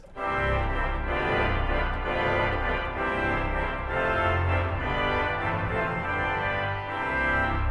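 Combined reed stops of a huge 121-rank pipe organ in Washington DC, a 16-foot Waldhorn, 8-foot trumpet and 4-foot clairon, sound together in a loud, sustained brassy chord progression that fills the whole clip with no talk.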